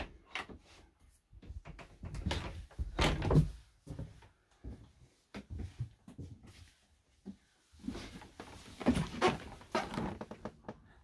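Wooden drawers under the bed in a 2021 Fleurette motorhome are slid open and shut with repeated close knocks and thunks, separated by short quiet gaps.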